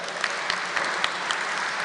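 An audience at a university convocation and pledge ceremony claps steadily in a dense, continuous round of applause filling a large hall, with no voices standing out.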